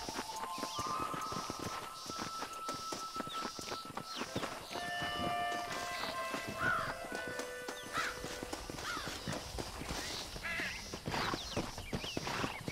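Stagecoach horses clip-clop steadily at a walking pace in the Red Dead Redemption video game, with occasional whinnies, hoof rhythm running throughout over a busy backdrop of wheels and game ambience.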